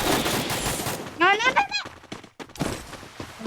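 Video game gunfire crackles in dense, rapid bursts, with a short voice-like tonal sound between the volleys before the shooting resumes loudly.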